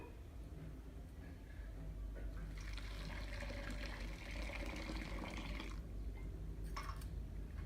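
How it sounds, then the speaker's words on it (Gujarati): Water poured onto washed sago pearls in a bowl, a splashing, trickling pour that builds midway and continues several seconds over a low background hum, with a brief clatter near the end. "હવે આપણે પાણી ઉમેરીશું"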